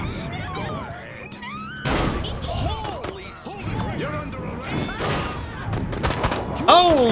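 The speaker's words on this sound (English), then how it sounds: "Why are there so many explosions in this city?" Chaotic bursts of explosions and gunfire in the video game Destroy All Humans! crackle through a busy city scene, with shouting voices and sharp impacts layered over a constant roar.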